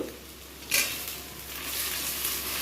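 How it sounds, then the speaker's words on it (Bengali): Baby corn fries in hot oil for chilli baby corn with a continuous sizzling hiss, and a brief scrape of stirring comes early on. "বেবিকর্নগুলো ভাজা হোক"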